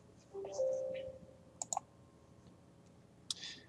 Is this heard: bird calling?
no